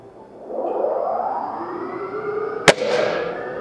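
A single sharp gunshot from a SAG R1000 long-range rifle fired outdoors on a cold day, a sudden loud crack with a trailing echo standing out above steady background noise and wind.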